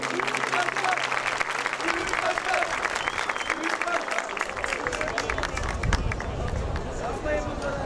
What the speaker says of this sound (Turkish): Sayın Belediye Başkanımızı alkışlarınız ile sahneye davet ediyorum